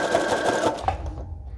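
A sewing machine runs steadily, stitching fabric and layered papers together along the edge of a junk journal made from an old sweater; a close, continuous motor whir and needle chatter that slows near the end.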